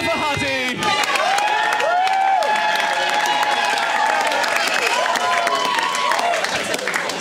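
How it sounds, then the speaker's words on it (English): Crowd at a swing dance competition cheers and applauds for the hat man, steady clapping with whoops on top while a loud tonal sound, likely music or a voice, runs through it. "Give a cheer for Hutty."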